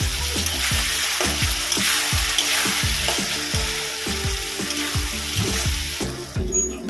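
Cashew paste being sautéed in a pan for a Bengali fig and prawn dish, with a steady sizzle and rhythmic scraping strokes of a spatula repeating about twice per second.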